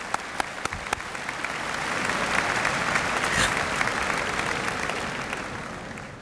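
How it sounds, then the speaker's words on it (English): Audience applause at the University of Waterloo's 100th convocation ceremony, swelling into a sustained, dense round of clapping that holds steady and then tapers slightly at the end. "Let's give the university a nice round of applause."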